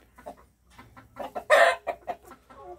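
Silkie and Cheonggye chickens cluck nearby in short, irregular bursts, with one louder, sharper squawk in the middle.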